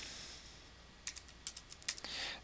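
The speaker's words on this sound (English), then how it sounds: "I'm going to want to just type in the body here" Fingers type on a computer keyboard, giving about ten quiet, close key clicks in an uneven burst after a short pause of near silence.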